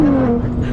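A 2012 Nissan GT-R engine, loud and close, a brief deep drone with a falling tone over less than a second.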